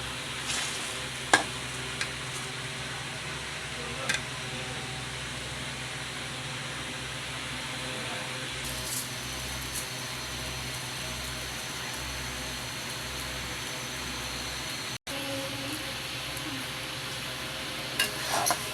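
Uncooked rice fries with ginger over medium heat in a pan for vegetarian fried rice, giving a soft, steady sizzle with faint intermittent stirring scrapes and occasional light clicks, fairly quiet and close.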